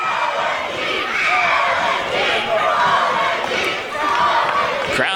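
A wrestling crowd at an indoor independent show cheers and shouts steadily, a dense roar of many voices with occasional louder whoops and a sharp thud near the end.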